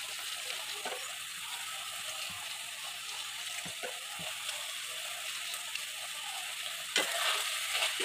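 Watermelon rind curry being stirred in a pan with fried lentil fritters, a soft low sizzle throughout with scattered scrapes and taps of a spoon, a brief louder knock near the end.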